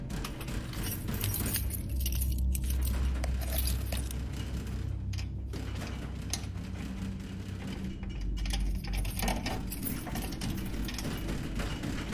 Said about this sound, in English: rushing to unlock the front door with his keys